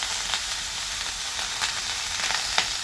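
Eggplant, beans and other vegetables sizzle steadily in a hot pan, a constant close frying hiss with a few faint stirring ticks and no talk.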